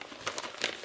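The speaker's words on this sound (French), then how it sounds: "j'ai massacré l'enveloppe" A paper envelope of subscriber mail being torn and crumpled open, a brief close burst of crinkly rustling rips.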